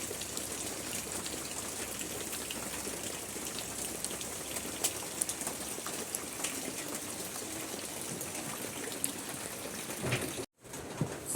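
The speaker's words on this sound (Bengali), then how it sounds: "একভাবে বৃষ্টি পড়ে যাচ্ছে" Steady rain falls continuously, a dense even patter with scattered sharper drops, close by, with no voices.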